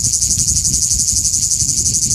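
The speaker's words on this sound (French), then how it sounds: "encore une nouvelle cigale" A cicada singing in a continuous high-pitched, steady buzzing trill, loud and close, with faint low rumbling underneath.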